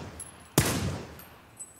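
A single sharp gunshot cracks out loud and close in the video game Battlegrounds, followed by a short decaying rumble and faint high-pitched game tones.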